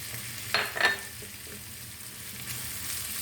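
A spoon briefly stirring walnut filling for içli köfte, two quick close scrapes against the pot followed by quiet, faint kitchen background.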